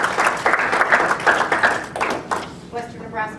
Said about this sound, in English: please take a round of applause for KNEB